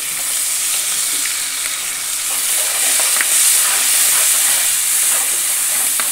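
Tomato paste fries in hot oil with masala for a village-style Shravan katachi amti, giving a loud, steady, dense sizzle and hiss throughout with occasional soft stirring scrapes and no talk.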